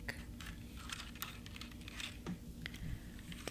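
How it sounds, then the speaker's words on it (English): Soft typing on a regular black Logitech keyboard, a quiet, close patter of key presses in an irregular rhythm. "So this is just regular keyboard, and it's in this soft black, and it is Logitech"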